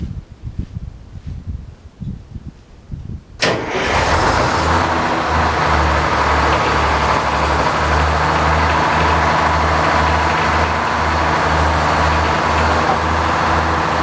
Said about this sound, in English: Saw blade should go when I start it up because I got it in gear.